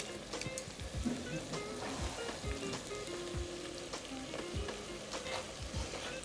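Nigella seeds, cumin and curry leaves fry in hot oil in an old-style potato bhujia, a steady close sizzle with crackling pops and occasional stirring scrapes, no voices.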